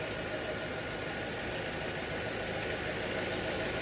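A 2023 Volvo XC90 engine idles steadily with a low, even hum and faint mechanical rattle, running near and constant while the transmission fluid is being changed.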